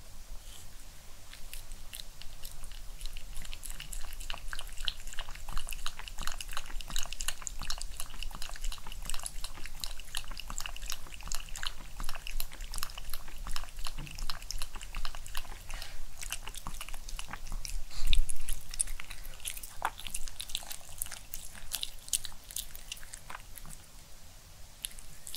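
A dog chewing and lapping through a bowl of Korean New Year tteok-mandu soup, steady close-up wet chewing and biting that runs continuously, with a brief louder bump near the end.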